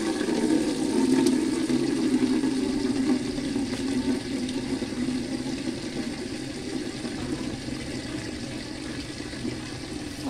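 Water is poured onto flower pots while watering plants, a steady rushing and splashing flow that is somewhat louder at first and then continues evenly, with no voices.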